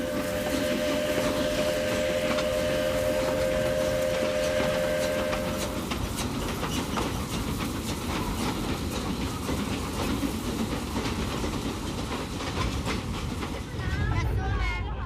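China's last steam train running on rails, a loud continuous rumble with rhythmic clickety-clack of the wagons, a steady whistle-like tone in the first six seconds, and a brief squeal near the end.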